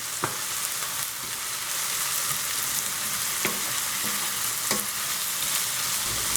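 Onions and garlic sautéing in a pan for a mushroom pasta, a steady moderate sizzle with occasional sharp stirring clicks and taps of a utensil, close by and without talk.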